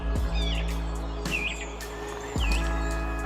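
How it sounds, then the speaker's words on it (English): A song thrush in full song at a marsh nature reserve, a series of clear whistled phrases with rising and falling notes, moderately near, over a steady low hum and a few low thuds. "we're greeted by the song thrush in full song"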